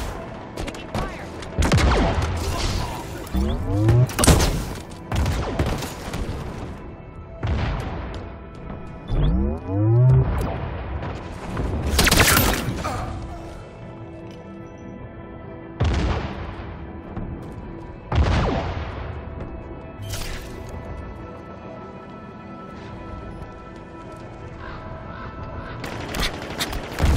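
Repeated bursts of gunfire from the Halo video game, sharp shots and short volleys spread across the stretch with loud booming impacts, some near and some farther off.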